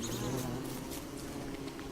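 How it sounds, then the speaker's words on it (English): Bees near a beehive in the video game Don't Starve make a steady, continuous droning buzz with no breaks through the whole stretch, at a moderate level with no speech. "Oh, and another beehive nearby."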